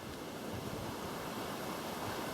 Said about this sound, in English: All the water is running pretty good.